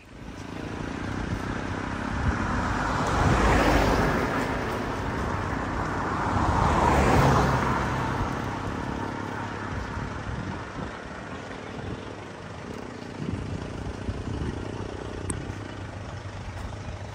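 Vehicles pass on the National Highway, Hala-Hala Pakil Road, beside a rural property, with two swelling car pass-bys over a steady low background of roadway hum and wind.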